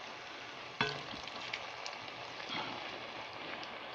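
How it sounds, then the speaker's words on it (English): Quiet, steady sizzling of Chinese chicken balls frying in oil, with a sharp clatter near the start and a few faint knocks over the hiss. "there's the last batch in the in the frying oil"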